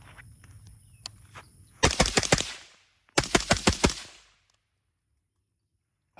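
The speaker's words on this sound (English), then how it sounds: "So now, just 5 rounds, quick succession, both targets." An AR rifle fitted with a Griffin Recce 5K suppressor and a KAK enhanced down-vent bolt carrier group fires in two quick bursts of sharp, muffled cracks, loud and close, after a few faint clicks and handling noises.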